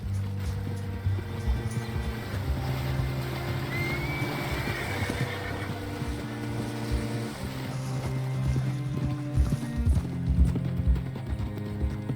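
In the Red Dead Redemption 2 video game, horse hooves clip-clop steadily along a path amid a busy mix of in-game music and ambience, with a horse whinnying partway through.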